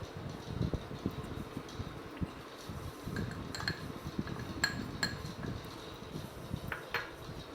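Gram flour is mixed into chopped coriander in a bowl for kothimbir vadi, with soft scraping and light clinks of a spoon against the bowl over a steady background hum.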